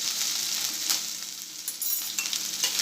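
A spice mix with garlic sizzles in hot oil for Gujarati kadhi, giving a soft continuous frying hiss with occasional light stirring sounds, fairly quiet and close, with no voices.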